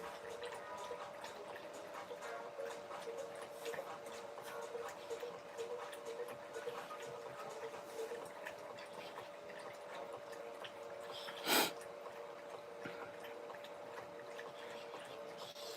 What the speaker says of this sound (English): Stark, if you could lap that water louder, buddy, that would be awesome.